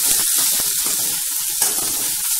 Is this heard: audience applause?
no